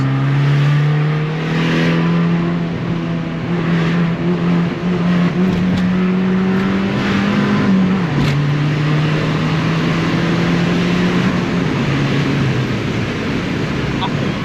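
A loud Abarth 595 engine with a decat exhaust drones and revs continuously, pitch rising and falling with a brief gear-change dip, with faint talk in the background.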